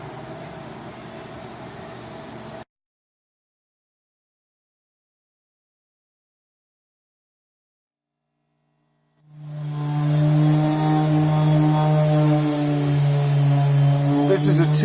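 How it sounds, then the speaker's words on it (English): A Dremel fitted with a small grinding or cutting tip opens narrow channels in the hull of a Telstar 28 boat, a loud, steady, close-up motor whine that starts abruptly after a long silence and runs for about five seconds. "small grinding tip or a cutting tip on a Dremel, and you open them up into a nice 16th or an 1/8 inch wide channel"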